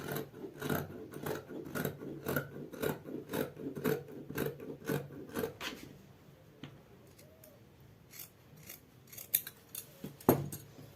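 Scissors snip through fabric to cut a sleeve cuff band, a steady run of sharp close cuts for about six seconds, then quieter scattered snips and handling noises.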